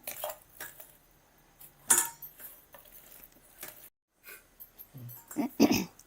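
Close, intermittent clinks and scrapes of a utensil against a mixer jar and wide bowl as thick pepper vada batter is spooned out, with a few louder knocks.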